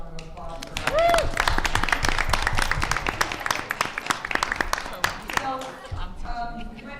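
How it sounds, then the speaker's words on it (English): An audience at a board of education meeting claps in a burst of applause, with voices and speech mixed in alongside the clapping throughout. "let's have another round of applause for that"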